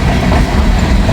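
Boxcars of a freight train roll past up close and loud, a steady rumble with clickety-clack wheel beats and no voices.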